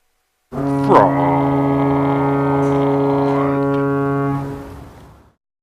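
A deep, loud foghorn blast, presented as a joke "fraud horn", holds one long steady tone with strong harmonics for about four seconds, then fades out, with nothing else around it.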